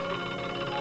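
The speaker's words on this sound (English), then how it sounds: "7:15, that's my alarm clock." An alarm clock rings in a city apartment at morning in a 1949 radio drama: a steady, continuous metallic ringing, fairly close and alone, with no voices.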